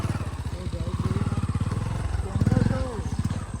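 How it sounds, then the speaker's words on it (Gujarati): A motorcycle engine thumping in a rapid, pulsing rhythm close by, swelling louder as it passes, with voices talking over it. "ફટફટ બાઈક જો"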